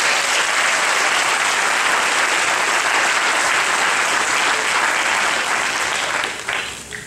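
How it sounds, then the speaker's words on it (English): A high school student awards ceremony audience breaks into sustained, loud applause from a large crowd. It holds steady throughout and thins only slightly near the end. "give our student body and our community a round of applause"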